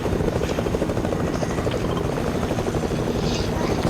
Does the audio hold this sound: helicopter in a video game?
yes